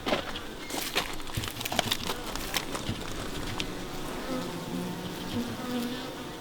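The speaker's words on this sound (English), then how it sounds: "at least I got guard bees out the front" Honey bees buzz steadily at a hive entrance fitted with a small robbing screen, a dense close drone with sharp individual bees zipping past the microphone early on, and no talking.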